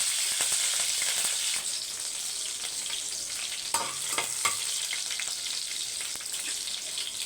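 Mustard seeds, cumin, green chillies and curry leaves frying in hot oil, a steady close sizzle with scattered crackles and pops, a few sharper spits near the middle, no voices.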